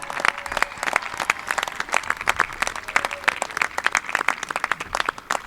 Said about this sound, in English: please stand up so we can applaud your commitment to the university as well